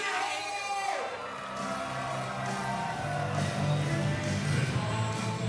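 A fan club in an MMA venue in Tahiti roars and whoops for a fighter, a dense crowd noise with shouted calls and cheering that swells toward the end.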